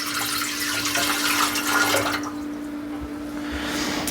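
Water pours from a measuring cup into the nonstick ceramic pan of a VEVOR bread maker, a close, steady splashing stream for about two seconds that then fades to quiet trickles.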